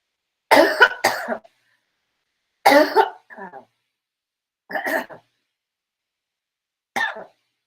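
Four separate bursts of coughing, a few seconds apart, close and fairly loud, with silence in between.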